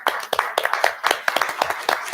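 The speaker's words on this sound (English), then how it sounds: "let's give these young ladies a round of applause" A small group clapping for young ladies at a town board meeting, a brisk, even patter of nearby hand claps with no talking.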